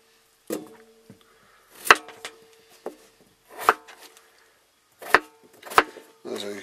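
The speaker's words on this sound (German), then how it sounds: "Also ich schneide jetzt gerade die Kartoffeln" A knife cuts potatoes into cubes on a board in irregular, sharp knocks separated by short pauses, close and fairly loud, with quiet shuffling between strikes.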